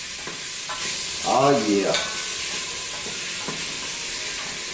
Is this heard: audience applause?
no